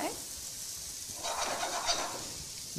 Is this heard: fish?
yes